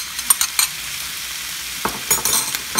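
Pineapple pieces drop into a pan of frying chicken breast with brown sugar, a steady low sizzle broken by scattered clatters and stirring scrapes, close and without talk.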